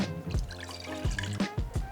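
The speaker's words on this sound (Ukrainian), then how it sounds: "Для цього нам на початку потрібно 100 мл води." Water is poured and dribbled for pampukh doughnut dough in a kitchen, a close, soft trickling with a few splashy drips, no talking over it.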